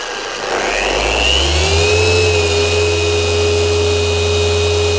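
A Rupes Mark 3 car polisher spins up from quiet into a loud, steady whine, its pitch rising and then holding even throughout.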